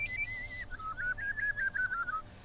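A lone whistle produced with the roof of the mouth rather than the lips, a clear sliding tone followed by a rhythmic series of short wavering chirps, fairly close and alone.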